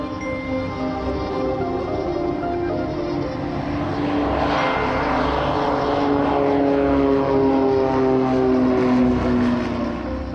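Propeller aircraft at Bristol Airport taking off from runway 09, a loud steady engine drone with rising tonal whine that swells and holds, close and alone.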